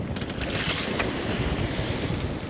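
Steady, strong wind at sea aboard a sailboat roars and buffets the microphone continuously, with a rushing, noisy texture and no voices.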